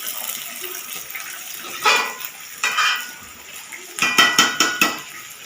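Meat cooks in a pot with a soft background sizzle. Sharp metallic clinks and scrapes of a utensil against the pot come in short bursts, with a quick rhythmic run near the end.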